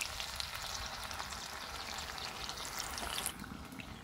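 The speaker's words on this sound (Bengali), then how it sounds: "আমি লো টু মিডিয়ামে রেখে কিন্তু ভেজে নিচ্ছি" Muri-based snacks deep-fry in oil over a low to medium flame, a continuous bubbling sizzle with fine crackles, close and even in level, with a slight dip near the end and nobody speaking.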